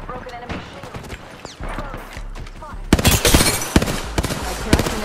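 Gunfire from a Hemlock weapon in the Apex Legends video game, rapid bursts of close, loud shots that crowd together in the second half, with voices talking over the action.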